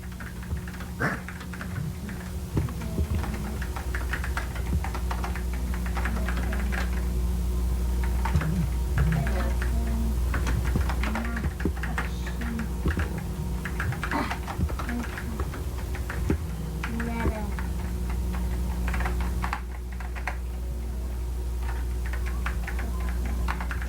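Keys clack on a typewriter in an irregular run of close taps over a steady low hum, with occasional soft thumps throughout.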